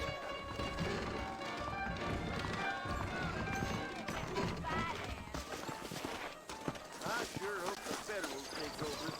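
Horses gallop in a western video game, a rapid, continuous run of clip-clopping hooves with heavy movement noise and game voices talking over it throughout.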